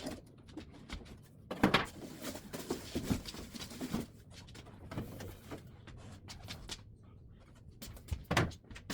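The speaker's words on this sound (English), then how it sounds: "this door won't stay open" A door that won't stay open swings and knocks, giving several irregular thumps and rattles at close range.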